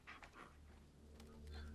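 A dog whimpers and pants faintly in the Blair Witch video game, short soft whines near the start followed by quiet breathing.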